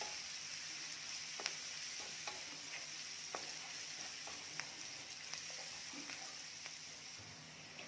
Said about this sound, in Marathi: कांदा आपल्याला खूपही रंग बदलेपर्यंत भाजायचा नाहीये